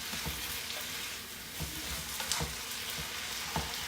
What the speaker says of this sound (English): So I like this to really kind of stir fry together.